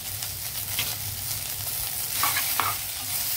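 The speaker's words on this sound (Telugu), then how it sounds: "ఇవన్నీ కొంచెం అలా ఫ్రై అవనిద్దాము" Mixed vegetables, green chillies, curry leaves and ginger garlic paste sizzle in a pan, with a steady fry broken by a few scraping stirs near the end, no talking.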